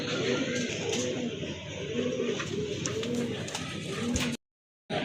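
A pair of local pigeons coo close by in a steady run of rolling, rising-and-falling calls that repeats about once a second, then breaks off into a brief silence near the end.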